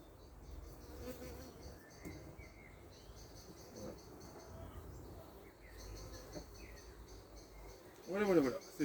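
Honeybees buzz steadily around a hive frame being moved between hives, a close, continuous insect drone with louder swells toward the end.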